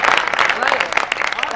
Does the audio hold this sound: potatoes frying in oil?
no